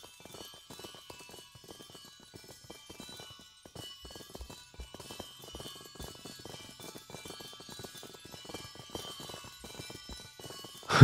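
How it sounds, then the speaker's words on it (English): Horse hooves clip-clop in a video game, a steady, light patter of small footsteps running through the clip with faint tinkling above, ending in a sudden louder burst. "And other little footsteps are almost like a percussion."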